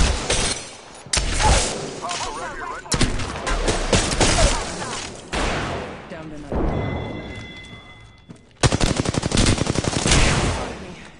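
Gunfire in the online shooter Apex Legends: bursts of automatic weapon fire and single heavy shots, with impacts and shattering hits, ending in a rapid rattling volley. Loud and close, with game sounds layered between the shots.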